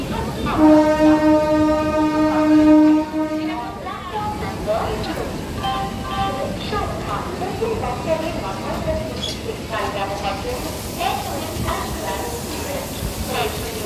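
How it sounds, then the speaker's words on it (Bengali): Tamralipta Express pulling away on its Digha to Howrah run: a loud sustained train horn blares for the first few seconds, then the rumble and clatter of the moving carriages continue, with voices talking over the noise. "আর এই মাত্র যা আমাদের ট্রেনটা রানিং হলো।"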